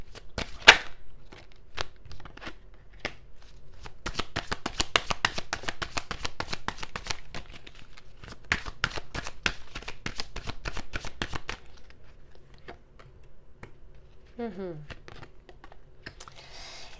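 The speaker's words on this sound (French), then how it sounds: "Je vais juste tirer les cartes du tarot parce que j'ai besoin de précision." Tarot cards being shuffled and drawn, a rapid run of crisp riffling clicks and flicks in bursts, close and fairly quiet, with a voice speaking briefly near the end.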